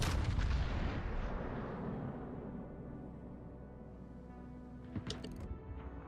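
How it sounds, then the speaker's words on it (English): Heavy naval gunfire from the battleship Ohio in World of Warships: a loud booming salvo at the start with a long rumbling decay, then a second, sharper burst of distant shots near the end. "Early opening shots on the Ohio"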